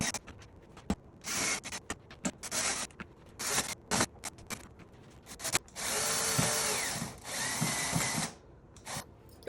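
A power drill drives screws into a laser-cut wooden vintage calendar, with short whirring bursts early on, then longer steady runs near and loud, and no talking.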